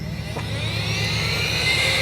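A rechargeable USB-C air pump inflating an air mattress for a camping bed in a 2020 Nissan NV200, a steady close whirring motor hum with a low pulsing drone, heard alone.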